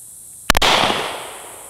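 A single sharp, loud crack from a small pistol-style device, followed by a brief decaying hiss in a quiet setting.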